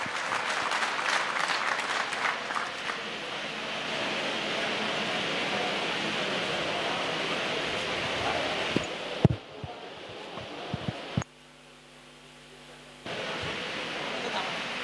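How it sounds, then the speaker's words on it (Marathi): An audience at an inauguration ceremony for a water literacy centre applauds strongly, a dense, steady wash of clapping that continues for several seconds before thinning into scattered claps, bumps and a low hum. "मी विनंती करतो की जोरदार टाळ्यांचा आवाज पुन्हा एकदा झाला पाहिजे"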